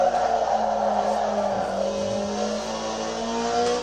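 Engine drone of a car in a racing simulator video game, sliding through a turn in a drift, heard as a steady, sustained synthetic motor tone with a slightly shifting pitch and no voices.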